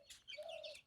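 A chicken being fed rice gives a few quick, faint clucks close by, with a short drawn-out call in the middle of the burst.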